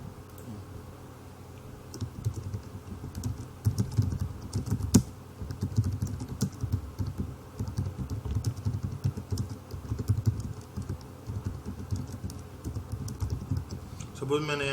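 Rapid keystrokes on a computer keyboard as multiline text is entered in AutoCAD, an uneven run of close clicks over a low background hum.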